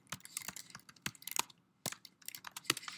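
Python hello world code being typed on a computer keyboard: a close, quiet burst of quick key clicks in uneven clusters, with a short pause partway through.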